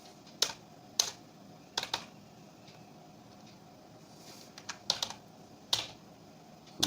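Text is typed on a computer keyboard in sparse, irregular bursts, with about eight distinct crisp key clicks close up and quiet gaps between them.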